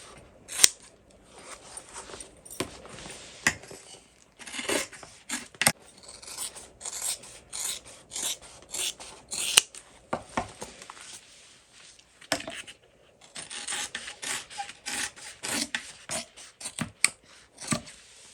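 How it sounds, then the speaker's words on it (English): Scissors trimming a fabric seam allowance down to 1/8 inch while sewing a tote bag, with a steady run of close, crisp snips and rasping blade strokes spread across the clip, short pauses between bursts. "you want to trim your seam allowance down, and you want to trim it to 1/8 inch"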